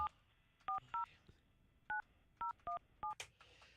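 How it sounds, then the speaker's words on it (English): Telephone keypad tones dial a number: eight short, evenly spaced two-tone beeps across a few seconds, fairly faint over a quiet room with no talking. "Let me try and get Russ on the phone."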